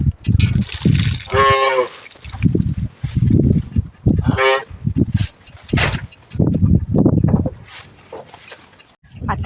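Cows in a cattle shed low out twice in long, drawn moos, fairly near, among the steady clatter and movement of the barn; a person talks between the calls.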